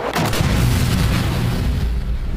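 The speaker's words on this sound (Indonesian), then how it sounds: "Hairo untuk mengeluarkan dinamit yang meledak saat itu juga." A loud, deep dynamite explosion with a heavy rumbling boom that stays dense and powerful for a couple of seconds.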